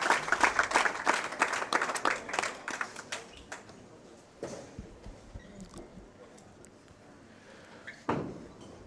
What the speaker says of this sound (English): Great round of applause there for Thomas